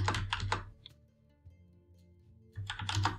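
Typing on a computer keyboard, two short bursts of quick, close key clicks separated by a quiet pause, with no voices.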